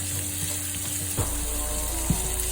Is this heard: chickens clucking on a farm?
no